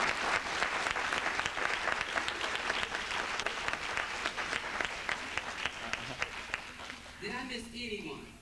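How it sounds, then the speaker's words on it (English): An audience at a hair fashion show applauds the store managers, sustained dense clapping for about seven seconds that fades as a voice begins speaking at the end. "Let's give them a big round of applause."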